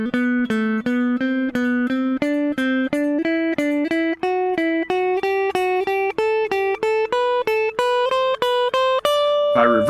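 A guitar plays a steady picked scale in a triplet pattern that keeps stepping upward note by note, clear and close, ending with a short scrape of the strings.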